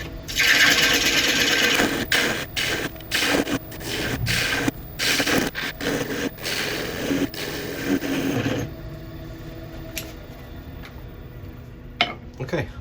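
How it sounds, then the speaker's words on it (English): A redwood natural-edge bowl is sanded while it spins on a wood lathe, with rhythmic rubbing and rasping strokes that come and go, then fade to a quieter hum near the end. "I'll sand what I can while it's still on the lathe"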